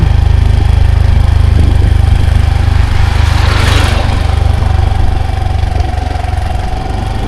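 A motor vehicle engine drones loudly and steadily as it drives along a road through foothill villages of the Western Ghats near Coimbatore, heard close up throughout with no speech.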